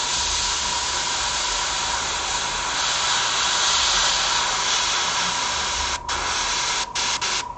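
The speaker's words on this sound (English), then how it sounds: "let me jump in real quick and very carefully jump in here. Airbrush that" An airbrush sprays paint onto a PlayStation controller with a steady, close hiss that runs almost unbroken, then stops in a few short gaps near the end.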